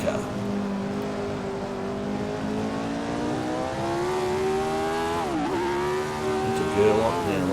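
Engine of the 1967 championship-winning Formula 1 car in a video game, a loud high-pitched roar climbing through the revs, dipping sharply on a gear change or braking, then rising again, with a voice talking over it.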